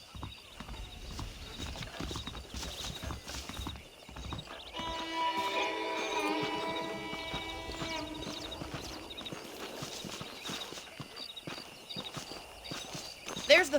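Horse hooves clip-clopping at a walk in Red Dead Redemption, a steady rhythmic patter near the listener, heard under game music and a man's spoken dialogue.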